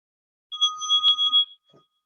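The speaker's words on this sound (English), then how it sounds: "You can open your eyes and come back to the room when you finish hearing the sound of the bell" A mindfulness bell in a classroom rings with a bright, sustained metallic tone that swells and decays over about a second, a single clear strike followed by a faint shuffle.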